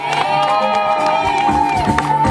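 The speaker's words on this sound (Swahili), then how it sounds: "Pigeni vigelegele kwa ajili ya Yesu" A church congregation at the close of a seminar raises loud, sustained high-pitched ululation mixed with cheering voices, dense and close, filling the space throughout.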